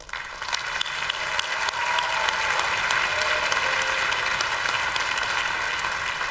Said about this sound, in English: So give another round of applause for these wonderful students